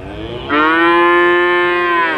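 A purebred calf at a crowded cattle market lets out one loud, drawn-out moo, close by and rising sharply before holding steady for nearly two seconds.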